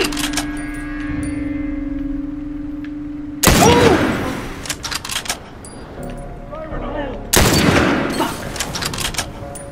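Two loud bursts of gunfire in The Last of Us, each a sudden sharp volley that cuts in over quieter game ambience and then trails off into scattered shots.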